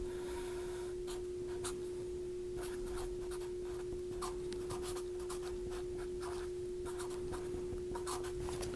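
A pen or pencil scratches steadily across paper while a chemistry diagram is drawn by hand, the soft strokes and taps sitting under a constant electrical hum with no talking.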